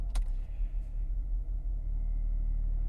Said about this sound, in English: Okay, so I'm gonna start the car.